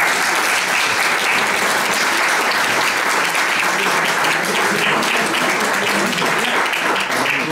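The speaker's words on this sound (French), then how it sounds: "Donc merci d'applaudir Claire" An audience at a citizens' assembly in Maurepas claps in loud, dense, sustained applause that fills the whole stretch evenly, with no speech over it.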